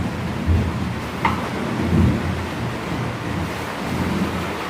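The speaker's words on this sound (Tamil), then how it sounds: "இடி மின்னலை பார்க்க பயமாக கிடக்கு" Thunder rumbling through a steady rainstorm, a continuous heavy wash of rain and wind with low rolling booms beneath it, no talking.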